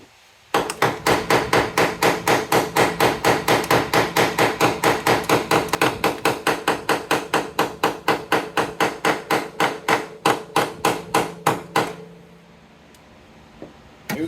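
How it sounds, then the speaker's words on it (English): A hammer taps a car's brake booster to bend it during an RB26 Nismo intake manifold install, striking in a fast, even rhythm of dozens of sharp metallic knocks for about eleven seconds before stopping. "You kind of want to just literally tap that brake booster in that section just to bend it up."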